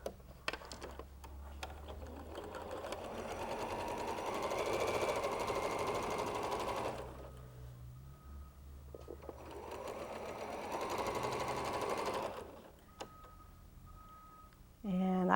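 A sewing machine stitches a quilt seam in two long, steady runs of rapid mechanical chatter with a pause between them, close up, and a voice speaks briefly.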